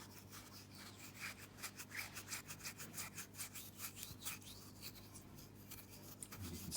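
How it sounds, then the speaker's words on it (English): Bicarbonate of soda being rubbed gently by hand onto a dirty silver coin, giving a soft, rhythmic scratchy rubbing close up and faint throughout. "just gently use the bicarb to rub it in."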